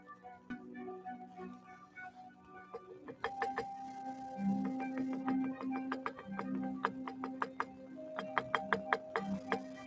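Light taps on a Singer 101 sewing machine, a series of small sharp knocks and ticks, sparse at first and then quicker and more frequent, recorded up close in a quiet room.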